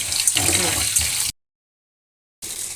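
Tap water runs steadily into a sink while mung dal is rinsed for vegetable khichuri, loud and continuous for about a second, then cut to silence before resuming briefly.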